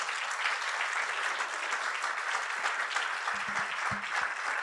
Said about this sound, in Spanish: Este es un buen momento para aplaudir